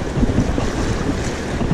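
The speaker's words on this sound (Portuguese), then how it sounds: "O vento tá querendo dar uma apertadinha, mas o mar tá coisa mais boa." Wind at sea blusters hard against the microphone while fishing from a pedal boat near a shallow beach, with a loud, continuous rumble and faint wash of water beneath.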